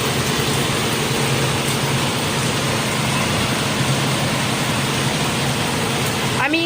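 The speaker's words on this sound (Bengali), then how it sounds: "দেখেন কি পরিমাণ বৃষ্টি হচ্ছে আমাদের এখানে।" Heavy rain pours down in a dense, steady hiss that stays loud and unbroken from start to finish.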